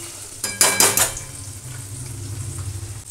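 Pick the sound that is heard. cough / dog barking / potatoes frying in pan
potatoes frying in pan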